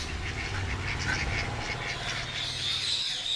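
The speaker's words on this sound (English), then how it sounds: "Here you can see this group of ducks." A group of ducks at an animal shelter quacking in repeated, overlapping bursts, close and fairly quiet, over a low background hum.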